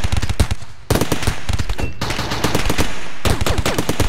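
Turrets in the RimWorld video game fire rapid, dense bursts of automatic gunfire, loud and close, in several clusters separated by brief gaps.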